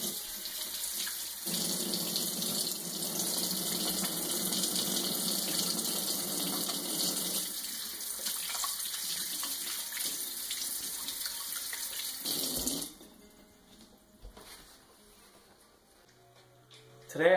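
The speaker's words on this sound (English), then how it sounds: "First things first, I need to wash my hands." Tap water gushes steadily into a sink as hands are washed before cooking, a loud continuous rush that stops abruptly near the end, leaving quiet room sounds.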